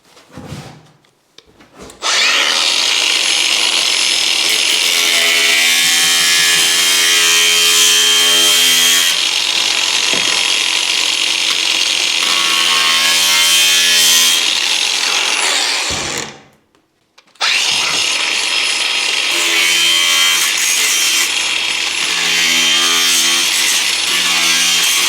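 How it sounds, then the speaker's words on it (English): Power grinder cutting through a lid during a fuseboard installation, a loud continuous abrasive whine with shifting pitch, close by, broken once by a short pause before cutting resumes. "Get the grinder."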